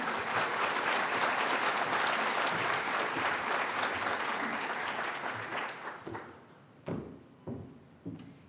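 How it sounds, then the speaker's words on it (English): Audience applause welcomes a speaker at a live fall planning event for the new academic year: dense, steady clapping for about six seconds, then fading out, followed by a few scattered knocks. "let's give her a big round of applause and a welcome."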